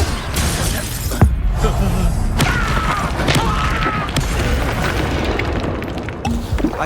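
Confringo spell explosion in the video game Hogwarts Legacy, a loud boom with shattering and popping debris, then rumbling and crackling that carries on for several seconds.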